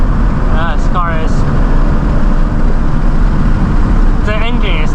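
Toyota GT86 engine in a racing video game, a steady loud drone under the drive with revs sweeping up and down in gear changes around the first and last seconds.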